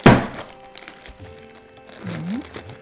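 A head of cabbage is banged once, hard, on a kitchen counter to loosen its stem core, giving a sharp thunk up front followed by quieter handling noises and a faint voice later.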